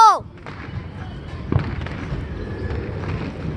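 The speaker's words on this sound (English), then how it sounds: "Okay, so far we've been catching some fireworks." Fourth of July fireworks going off outdoors, with a brief whistling rise at the start, a dull boom near the middle and a steady rumble of crackling bursts and background noise throughout.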